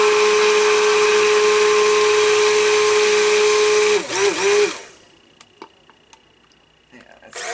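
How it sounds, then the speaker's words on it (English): A stick blender whirs steadily while mixing a cotton candy scented soap or bath product batch, a loud continuous motor whine that wobbles briefly before cutting off, leaving faint clicks and small knocks. "I think I'm going to use the stick blender"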